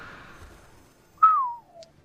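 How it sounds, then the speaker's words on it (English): A single short whistle sliding downward in pitch, clear and fairly close, following a faint hiss of background noise, during a League of Legends pro match broadcast. "It's just a whistle, Rusty."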